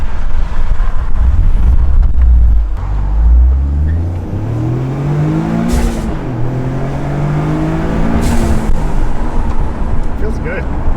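A tuned Toyota GR Corolla accelerating, loud engine and road roar with a deep revving drone climbing in pitch through the gears, with people talking inside the car.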